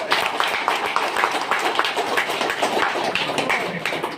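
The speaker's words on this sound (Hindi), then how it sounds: "तो जितनी भी महिलाएं, एक बार जोरदार तालियां उन सबके लिए बजाई जाए" An audience at a business speech claps vigorously, a thick, even wash of applause that holds at the same level throughout.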